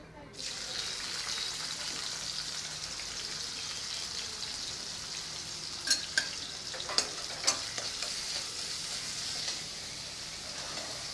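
Bean and potato bhaji frying in a pan, a continuous moderate sizzle with several sharp scraping strokes of a spatula stirring the pieces partway through.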